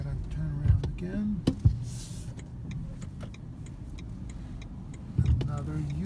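A 2018 BMW i3s electric car drives and makes a U-turn, a low road and motor hum running steadily throughout with a few brief knocks and clicks, while a person talks over it.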